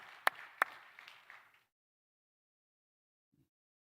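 A small congregation claps to welcome a speaker at a Friday prayer meeting, a short burst of applause with a couple of sharp loud claps that fades out within about a second and a half, leaving silence.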